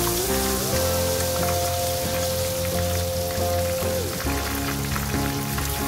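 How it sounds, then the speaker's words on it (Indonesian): A loud, continuous sizzle of jumbo shrimp frying in hot oil, crackling steadily throughout with a low hum running beneath it. "Kita selesaikan untuk menggoreng udang sampai selesai."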